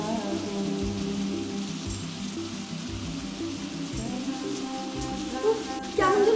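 Heavy rain pours down with gusting wind, a dense, steady hiss of falling water with low rumbling underneath and a brief rattle near the end, no talking.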